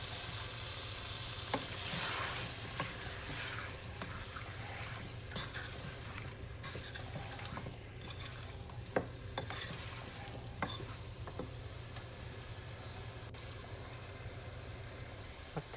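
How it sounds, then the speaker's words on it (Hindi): Potatoes with dill, salt and garlic powder fry steadily in a pan, giving a continuous close sizzle with occasional faint stirring scrapes throughout. "ये अच्छी तरह से भुनने लगे हैं।"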